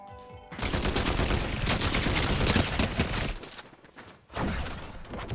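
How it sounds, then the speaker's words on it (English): Rapid gunfire in Fortnite Zero Build, a dense burst of shots for several seconds, a brief lull, then firing resumes, loud and close. "so let's get some shots on them"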